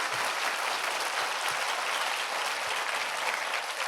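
A congregation at a North American Remnant conference claps together in praise to God, steady dense applause filling the room without a break for the whole stretch and no voices on top.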